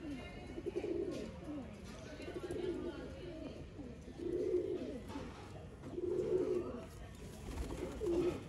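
Teddy breed pigeons kept by a Sialkot pigeon breeder coo in low, rolling phrases that repeat every second or two, close and fairly soft, while someone talks over them.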